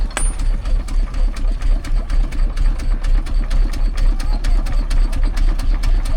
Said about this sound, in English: it looks like a traction engine of some kind